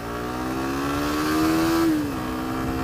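A Suzuki GSX-S150 motorcycle accelerates to overtake on a road in Lombok. Its engine note climbs steadily, peaks, then eases off, loud and close, with no talk.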